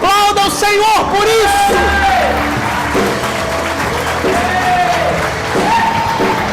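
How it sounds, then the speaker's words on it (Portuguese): A church congregation at a worship service breaks into loud applause and cheering. A strong voice with shouting or singing rides over the crowd, which fills the room throughout. "E a igreja aplauda o Senhor por"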